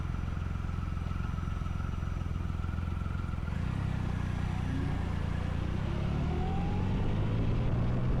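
A motorcycle rolls through traffic on the 110 freeway near downtown, its engine droning steadily up close with wind and road roar, and the pitch shifts and rises in the last seconds as it accelerates.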